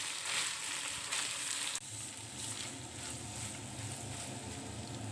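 Boiled spaghetti stir-fried and mixed in a pan, a quiet steady sizzle with soft stirring scrapes and a brief clatter near two seconds, close with no talk.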